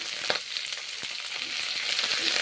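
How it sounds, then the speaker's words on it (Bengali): Papaya pieces fry in a pan for an egg and papaya curry, a dense, steady crackling sizzle with a few sharper pops and spatula taps, close and without speech. "পেঁপেগুলো ভেজে নিচ্ছি।"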